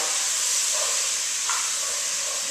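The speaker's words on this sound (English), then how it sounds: "I'm just going to stir it around" Onions and sauces for New Mexican green chili being stirred as they toast in a pan, a steady bright sizzle and hiss with faint scraping from the stir, close and continuous, no talking.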